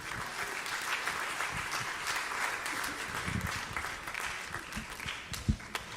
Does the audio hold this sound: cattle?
no